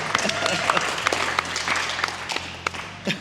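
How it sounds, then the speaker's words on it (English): Audience applause at a Q&A session at the Oxford Car Show, a scattered crowd clapping steadily for about three seconds with faint voices mixed in. "Round of applause, please, for both."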